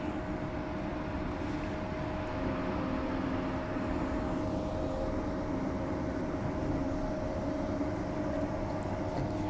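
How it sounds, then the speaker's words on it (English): A Fremantle line train in Perth runs steadily, its continuous rumble and rolling wheel noise heard from inside the carriage with a faint whine above it. "This train runs from Fremantle to Perth, stopping at all stations."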